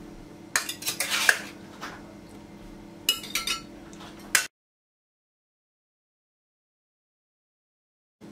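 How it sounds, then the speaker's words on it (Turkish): Baked food is moved onto a serving plate with metal utensils, giving bright clinks and scrapes of cutlery against dishes for about four seconds, followed by silence. "Yemeğimi servis tabağına alayım."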